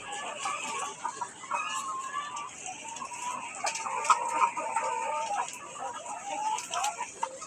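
Chickens kept in a bamboo-built cage cluck and call softly off and on, with scattered short clucks over a quiet rural background and a few faint ticking noises.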